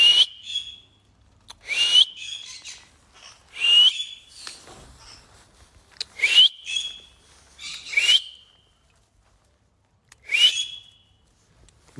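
A pet conure parrot whistles in short, bright, rising calls, about six separate bursts spaced a second or two apart, close and clear with quiet gaps between.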